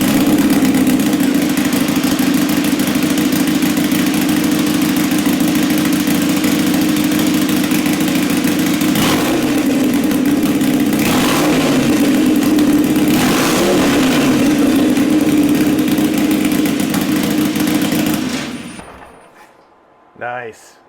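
A stock Harley-Davidson Sportster Iron 883 motorcycle engine fires up and runs with a loud, deep, pulsing idle punctuated by several sharp revs, close by, before cutting off abruptly near the end, with a voice faintly beneath it.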